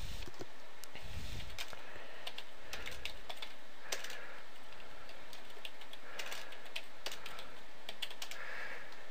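Keys clatter on a computer keyboard as a command is typed on a Windows 7 machine: quick, irregular bursts of close, crisp clicks separated by short pauses, with no voices.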